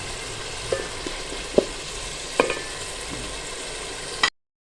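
Half a kilo of washed, chopped potatoes fry in a pan with a steady close sizzle, broken by a few sharp clicks from the spoon before the sound stops abruptly.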